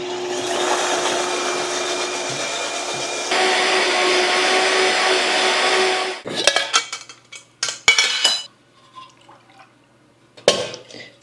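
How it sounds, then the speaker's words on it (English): A blender whirs steadily for several seconds blending eggs until foamy, its motor pitch shifting partway through, then cuts off, followed by clinks and knocks of kitchenware. "We'll blend that until it's nice and foamy"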